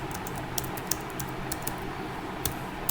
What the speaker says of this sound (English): I am going to type my name